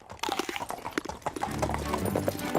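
Cartoon horse hooves clip-clop in a steady rhythm, close and clear, with a short voice near the start and a busier patch of sound toward the end.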